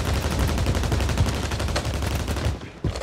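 Rapid automatic gunfire in Warzone, a dense stream of loud, closely spaced shots rattling continuously for nearly three seconds before briefly easing.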